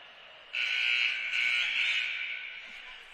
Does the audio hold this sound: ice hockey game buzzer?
yes